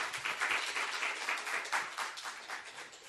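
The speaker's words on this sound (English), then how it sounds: "so a big applause." A small seminar audience claps for about three seconds, the applause thin, fairly quiet and evenly sustained, with a few distinct hands audible in the patter.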